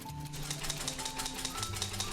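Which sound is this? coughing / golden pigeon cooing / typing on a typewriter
typing on a typewriter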